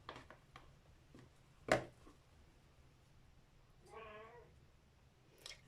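Cats drawn by the smell of fish meow faintly in a quiet kitchen: one sharp, brief cry, then a longer wavering meow a couple of seconds later, amid small clicks and taps.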